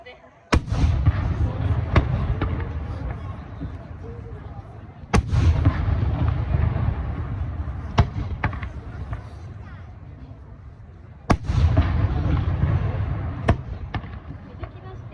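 Fireworks at the 2024 Aioi Peron fireworks festival: several loud, sharp booming bursts spaced a few seconds apart, each followed by crackling and a rumbling tail, with a voice speaking over the display.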